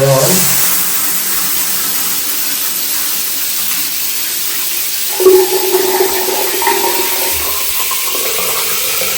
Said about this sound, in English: All right, we'll turn the shower on.